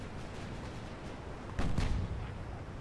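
A muffled cannon blast from a naval battle video game booms once over a steady rumbling game backdrop, followed by a shorter second report.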